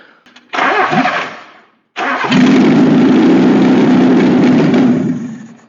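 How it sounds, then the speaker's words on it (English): A Toyota Corolla KE20 engine cranks on its starter, pauses briefly, then cranks again and catches into a loud, steady run, heard close with no talk. "Come on, starter motor."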